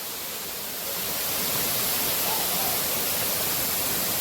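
Rushing water of Lai Kyndong waterfall at Mawlynrei, a steady broadband roar that swells slightly after the first second and then holds loud and continuous, with no talk.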